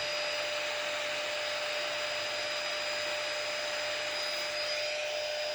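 A small electric epilator bought from AliExpress runs steadily with a constant motor whine and fan-like hum, close and continuous throughout with no talk.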